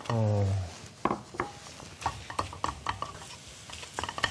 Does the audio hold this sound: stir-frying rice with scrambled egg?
yes